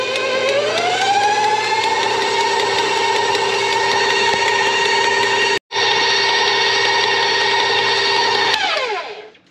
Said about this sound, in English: Now we're gonna beat it at medium speed for a few minutes.